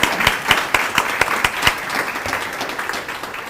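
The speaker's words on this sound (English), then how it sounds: "Let's just give a first round of applause to everybody who won" Audience applause at a student awards ceremony, a crowd of hands clapping with distinct sharp claps standing out close by over a continuous patter, tapering slightly toward the end.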